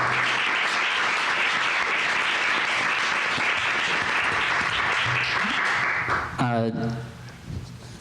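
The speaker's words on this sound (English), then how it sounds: "Let's have a round of applause for our panelists." A crowd claps and applauds steadily for several seconds, then the clapping fades out and a few sounds follow.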